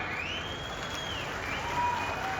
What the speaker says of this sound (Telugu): గట్టిగా చప్పట్లు కొట్టవలసిందిగా మీ అందరికీ